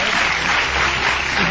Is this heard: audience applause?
yes